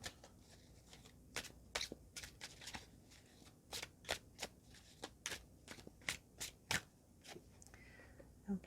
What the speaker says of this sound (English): I'm going to start shuffling the cards and see what comes out for you this week.